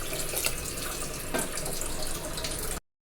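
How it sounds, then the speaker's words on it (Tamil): Water splashes in a steady rushing stream into a pot of thatta payaru kara kulambu, a continuous close pour that cuts off abruptly near the end. "தேவையான அளவு தண்ணி சேர்த்துக்குவோம்."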